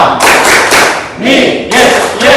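A classroom of students performs the tepuk ekonomi, a rhythmic clapping chant, with loud bursts of group claps in a steady pattern separated by brief gaps, close and sharp.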